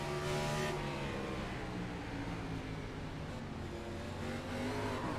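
Race car engine in a sim racing game at Richmond Raceway, a steady droning whine as the driver gets back on the throttle, engine pitch rising and falling gently, fairly quiet and continuous.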